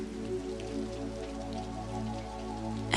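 Rain on glass, a steady even patter of drops continuing throughout with a low constant hum underneath, ending in a brief louder knock.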